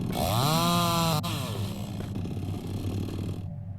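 In Mist Survival, a chainsaw cuts down a tree, revving up to a loud steady whine, then settling into a rough idling chug before abruptly cutting off.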